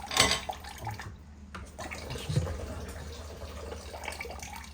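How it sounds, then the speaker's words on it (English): A cold water tap runs steadily outdoors during an outside tap installation, a continuous close hiss and splash with no talk over it. "leave the tap running. Run the cold"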